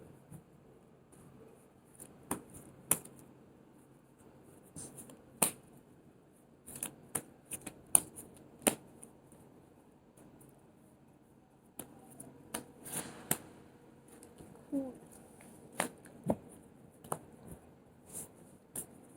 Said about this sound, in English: I just have habit of shuffling cards quite often.